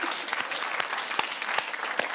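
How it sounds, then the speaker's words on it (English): Brief, moderate applause from a studio audience at a TV comedy panel show, a scattered patter of clapping with a few sharper individual claps, no voices over it. "That's the first loyal bit of applause I've seen"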